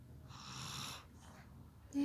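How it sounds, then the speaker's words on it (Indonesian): One soft, raspy snore from a sleeping baby drawn out over about a second, close and quiet, followed by the start of another breath. "Itu yang ngorok loh teman-teman."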